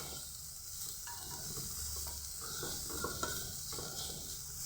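Peanuts are stirred into pan-fried noté greens, with a soft steady sizzle and repeated scraping strokes of a utensil through the pan, fairly quiet and close, with no talking.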